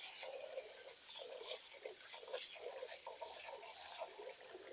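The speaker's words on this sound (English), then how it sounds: "Most important thing is to wash the rice a few times." Rice being washed in water for clay pot rice, a steady close sloshing and trickling of grains and water, continuous for several seconds with no talk.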